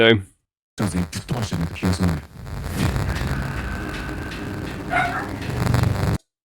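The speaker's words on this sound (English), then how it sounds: "That's my dog not liking the sound of the bells." A dog barks and whines in short, agitated bursts, followed by ringing bells and a sustained tone, with a voice briefly speaking at the start.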